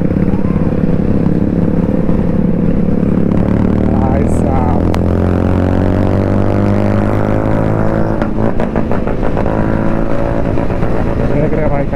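Royal Enfield Bullet motorcycle engine droning steadily while riding on a rough road, a loud continuous thump with rising pitch as it revs, wind rumble throughout.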